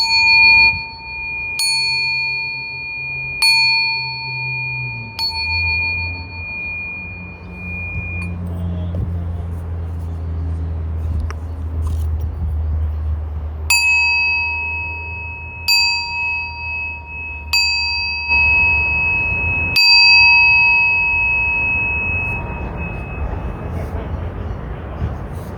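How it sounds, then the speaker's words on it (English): Tibetan singing bowls struck repeatedly for sound healing: clear metallic strikes ring out into long, shimmering sustained tones that overlap and fade, with a low hum underneath and a pause partway through before more strikes. "We're just going to do some sound healing with Tibetan hot bowls to cleanse the energies."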